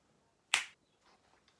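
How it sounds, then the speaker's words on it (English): A single sharp finger snap, close and clear in a quiet room, followed by faint rustling and a second brief click at the end. "I'm gonna snap my fingers"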